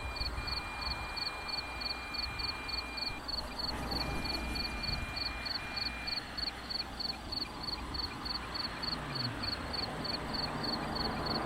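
A Uniden R9W radar and laser jammer tries to jam a Dragon Eye Compact laser gun aimed at a Porsche GT3. It gives a rapid, steady string of high, faint chirping pulses over a constant low rumble of background noise.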